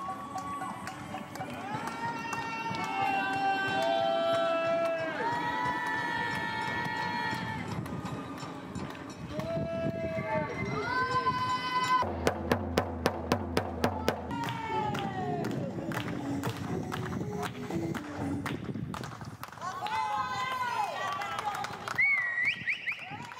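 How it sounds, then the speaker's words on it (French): Residents in the streets of La Rochelle applaud health workers from their windows, scattered clapping and cheering echoing between buildings under a voice talking, with a brief burst of rhythmic claps midway. "la population rend hommage en les applaudissant à leur fenêtre"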